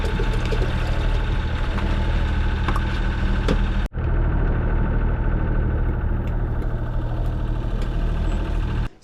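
A boat's engine, overheating after its seawater cooling system failed, runs in a steady loud mechanical drone with rattling knocks, close by, briefly dipping near the middle and continuing without talk.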